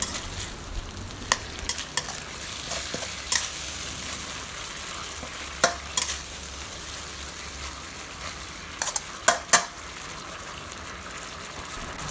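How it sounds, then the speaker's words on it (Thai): Canned fish and celery are stir-fried in a pan, making a steady low sizzle throughout with scattered scraping clinks of a utensil stirring, close and moderately quiet. "เราใส่ปลากระป๋องลงไป จากนั้นก็ทำการผัดต่อค่ะ ผัดคลุกเคล้านะคะสักเล็กน้อย"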